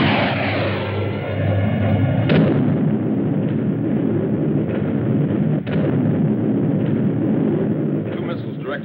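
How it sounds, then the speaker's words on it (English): Missile bombardment explosions in a 1954 science-fiction film, a dense continuous roar of blasts and rumbling with sharp bursts near the two- and five-second marks, loud and sustained throughout. "Start the bombardment."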